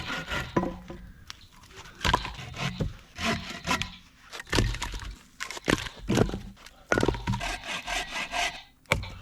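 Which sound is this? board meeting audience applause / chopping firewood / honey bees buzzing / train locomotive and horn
chopping firewood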